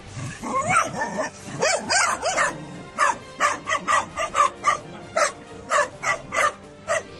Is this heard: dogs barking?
yes